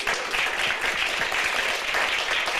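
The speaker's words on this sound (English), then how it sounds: "Let's hear another round of applause." A conference audience claps steadily after a panel session, dense sustained applause filling the room at a constant loud level.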